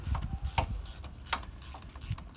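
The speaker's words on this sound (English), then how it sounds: "you want to go ahead and tighten down your brake caliper back to the piston housing" A hand ratchet tightens brake caliper bolts on a 2019 Chevy Silverado: a few short, close, sharp clicks spaced irregularly over a couple of seconds.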